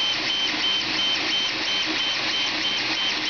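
A Creality Ender 3 3D printer prints silk silver PLA, giving a steady loud mechanical whir with a faint repeating stepper-motor whine that pulses evenly throughout, with no talking.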